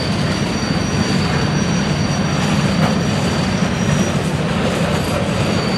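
Heavy, steady rumble of train cars rolling along rails as they are added to a hospital train, loud and close, with a faint metallic ring above the low grinding.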